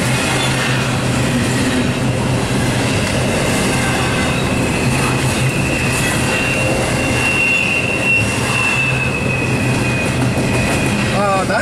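Loud, continuous rumble of a passing freight train with a steady metallic squeal and grinding from a car with a bad wheel bearing, close by.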